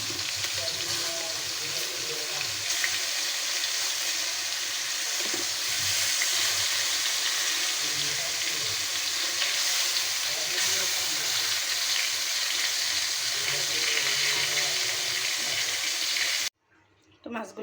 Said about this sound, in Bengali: কই মাছগুলো আমি একটু মুচমুচে করে ভেজে নেব